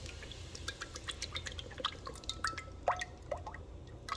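Whipping cream poured into a pan on the stove, a quiet run of small wet drips and splatters landing close by, with faint background hum.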